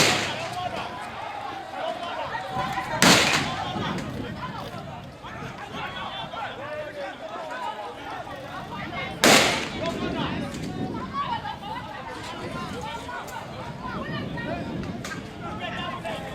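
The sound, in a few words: gunfire during clash between youths and police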